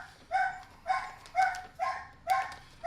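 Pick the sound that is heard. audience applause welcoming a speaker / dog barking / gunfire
dog barking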